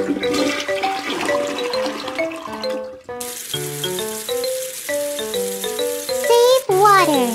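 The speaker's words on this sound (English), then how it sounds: "Flush the toilet after using it." A game-style toilet flush whooshes amid cheerful, plinking background music, with a short rushing swirl near the end, from a children's potty-training game.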